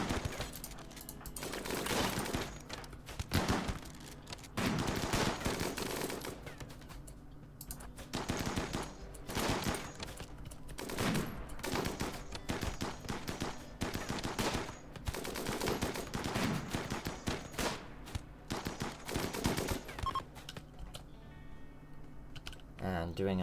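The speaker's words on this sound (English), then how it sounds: "we are taking some fire" Raiders' gunfire in the video game RimWorld crackles in rapid bursts of small-arms shots, dense stretches of firing broken by short gaps, with a voice talking over it at times.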